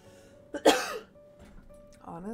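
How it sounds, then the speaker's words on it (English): A person coughs after smoking a blunt: one harsh, loud cough burst near the mic, then softer throat clearing and a final short rough cough. "I know I just coughed there."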